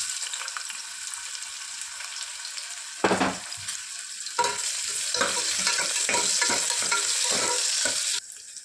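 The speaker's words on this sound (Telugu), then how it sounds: "ఆనియన్స్ బాగా బ్రౌన్ కలర్లో వచ్చేంత వరకు ఫ్రై చేసుకోవాలి" Sliced onions fry and sizzle in hot oil in a pan, a steady bright hiss broken by louder stirring scrapes and clatters partway through, with no one speaking.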